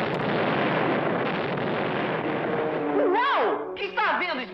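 Cartoon explosion in a laboratory: a long, dense rumbling blast that fills the first three seconds, then gives way to warbling, swooping tones and voices overlapping near the end.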